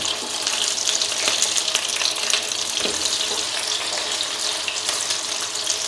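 Homemade Artsakh-style meat cutlets frying in a pan on a gas stove give off a steady, dense sizzle that holds at an even level throughout, close by, with no talking.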